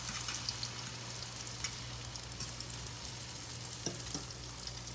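Egg frying in a pan with potatoes already browned, a steady close sizzle with faint crackles and a couple of soft stirring scrapes near the end.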